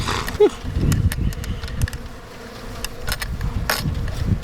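Many honeybees buzz close by an opened top-bar hive in a dense, wavering drone, with scattered soft knocks and scrapes over the steady hum.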